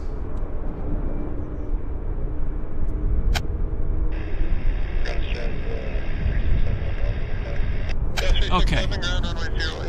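Jet airliners at Vancouver International Airport, with a United jet taxiing; a steady broadband engine roar and rumble persists throughout, with a high whine in the middle and a brief word spoken near the end.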